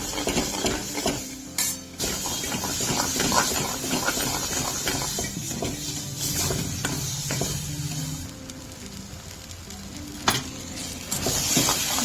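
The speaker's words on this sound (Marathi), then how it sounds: "मसाला चांगला तेल सुटेपर्यंत तळायचा।" Ground masala fries in oil for an egg curry, a continuous close sizzle broken by scraping and clattering from a stirring spoon against the pan.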